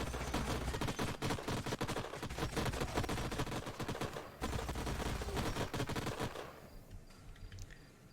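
Troops shooting in Age of Wonders Planetfall, a steady barrage of rapid gunfire crackling for more than six seconds, with a brief gap midway before it tails off into quieter scattered shots.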